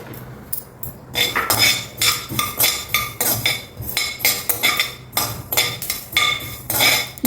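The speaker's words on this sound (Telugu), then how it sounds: "అరకప్పు నువ్వులు వేసుకుని వేయించుకోండి." Sesame seeds roasting in a pan, half a cup in all, with a spoon scraping and clinking against the metal in steady, repeated strokes, close and fairly loud with no talking.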